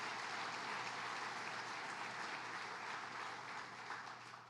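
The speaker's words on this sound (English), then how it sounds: "Please give them a big round of applause." An audience at a city and county state-of-the-city event gives sustained, fairly faint applause that holds steady for several seconds and tapers slightly at the end, with no talking over it.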